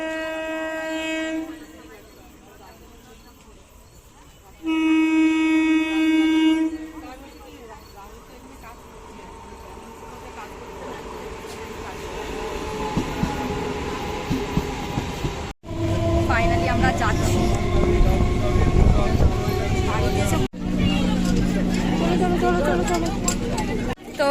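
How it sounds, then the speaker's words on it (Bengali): Train pulling into Kalinarayanpur station, opening with loud horn blasts, then a rising rumble and rattle of carriages rolling in close by under station bustle and voices. "আমাদের ট্রেন চলে এসছে আমরা রাইট টাইমে ঢুকেছি"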